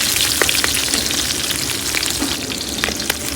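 Green chillies and pepper fry in hot oil for keerai kootu, giving a steady loud sizzle with crackling pops and the occasional stir, close and continuous with no talking.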